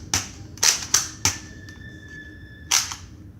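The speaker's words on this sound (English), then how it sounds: "And let's see how this gun fires." Nerf foam dart gun firing and being primed, with several sharp, close clicks and snaps spaced irregularly, separated by a faint whine and quiet gaps.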